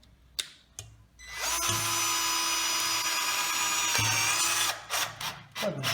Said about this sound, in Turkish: Yine bir vida atalım.